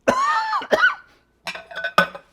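Several harsh coughs in two clusters come from someone irritated by paprika and spices while mixing hot Italian sausage, close and loud with a short pause between bursts.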